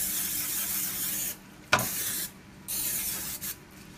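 Steady hiss of aerosol non-stick cooking spray coating a baking pan, running for over a second, pausing, then resuming in shorter bursts with a small clatter in between.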